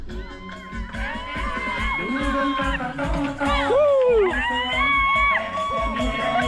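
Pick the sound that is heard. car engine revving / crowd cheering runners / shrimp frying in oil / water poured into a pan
crowd cheering runners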